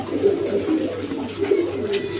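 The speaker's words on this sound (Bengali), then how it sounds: "দেখেন একদম কোয়ালিটি সম্পন্ন কবুতর" Pigeons kept for sale, Raj Golla and Lalgarh fancy breeds, coo softly and repeatedly in low throaty murmurs, close by with steady background noise and no talking.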